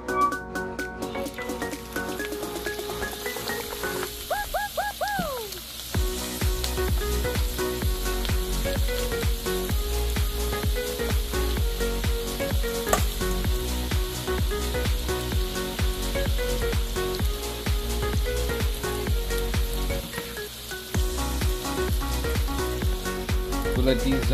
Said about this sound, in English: Let these onions fry until they're golden brown.